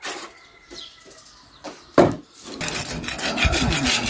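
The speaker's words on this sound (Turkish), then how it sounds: "bunları önce bir zımpara yapalım" Sandpaper rasps against a rusty iron balcony railing, first in a few short strokes, then in steady, loud, continuous scrubbing nearby.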